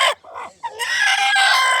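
A rooster and hens in a family's backyard coop in Punjab, Pakistan, give sharp, loud clucks and squawks close by, then a long rising crow that carries through the rest.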